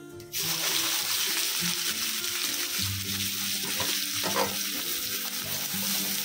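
Three medium onions hit hot oil already holding fried cumin and spices for chicken tikka masala, bursting into a loud, steady sizzle that continues evenly with stirring clatter and splashy crackles throughout.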